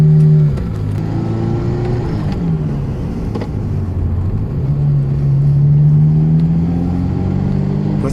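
A Ferrari 348 TS engine pulls up through the revs while driving, loud and close, its tone rising, dropping at a gear change, then climbing again across several seconds.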